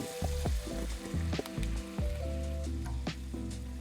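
Butter and white wine sizzle in a pan while cooking pancetta and gnocchi in an RV kitchen, a soft crackling hiss with scattered pops and a few light clinks of a utensil.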